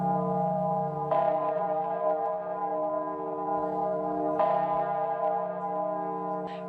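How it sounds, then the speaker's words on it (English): A great cast bell of brass, gold, silver and iron tolls with deep, sustained, mellow tones, struck three times with each strike swelling into a long humming ring that overlaps the decay of the previous one. "when they sounded the bell, its tones were found to be deeper and mellower and mightier than the tones of any other bell"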